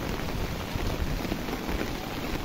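Heavy rain pours down on open farm fields, making a dense, unbroken hiss of drops that stays loud and even throughout.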